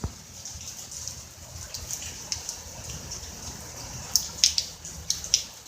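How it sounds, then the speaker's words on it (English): Rain falls outside in California, a soft steady hiss with light dripping and patters close by, several brighter drip splashes near the end. "Look at all that rain."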